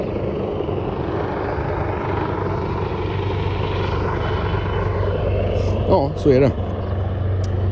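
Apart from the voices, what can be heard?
helicopter flying overhead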